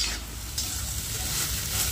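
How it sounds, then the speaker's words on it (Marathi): A spoon stirs and scrapes through carrot halwa sizzling in a pan with cardamom powder mixed in, a continuous close-up frying hiss without pause. "आणि आता हे सर्व काही छान असं मिक्स करून घेते।"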